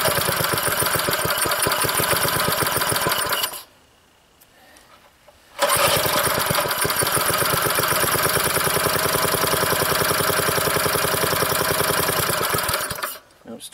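An old, previously seized rototiller engine runs loud and rough with a fast steady chatter, cuts out for about two seconds, then restarts and keeps running until a brief drop near the end.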